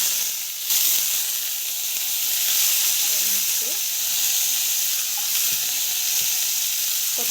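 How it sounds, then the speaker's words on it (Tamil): Mustard seeds, cumin and chana dal dropped into hot oil for a rava vegetable kichdi burst into a loud, bright hissing sizzle after a brief quiet start, then crackle steadily and close up with no voices. "ஆயில் வந்து நல்லா காயட்டும். ஸோ கடுகு போட்டு, சீரகம் போட்டு, கடலைப்பருப்பு போட்டு"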